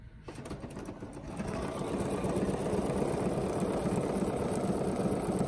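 A Bernina sewing machine stitches a quilting pattern, starting up and settling into a steady, fast whirring hum that continues evenly and up close.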